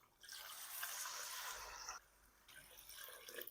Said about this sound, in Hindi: अब मैंने चिकन को गलाना है तो इसमें मैं पानी शामिल करूँगा।